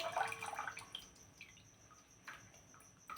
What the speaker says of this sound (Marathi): हे एका पाण्याने धुवून घेते आणि ताटामध्ये काढून घेते